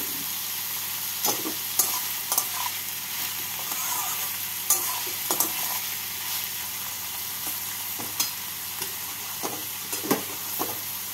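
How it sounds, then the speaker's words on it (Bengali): Onions sizzle steadily in a hot pan, with occasional sharp scrapes and clicks of a spatula stirring them. "পেঁয়াজগুলোকে হালকা লাল করে ভেজে নেব"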